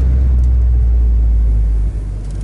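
A Mazda MX-5 NC facelift on a short drive, heard from inside the cabin with the window up: a steady, loud low engine and road rumble that dips briefly near the end, with no talking.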